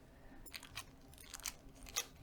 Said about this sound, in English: My scissors don't seem like they want to work very well today.